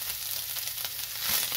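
Ground beef browning in a pan, giving a steady, close hiss of sizzling fat with small crackles and a slight rise near the end, with no talking.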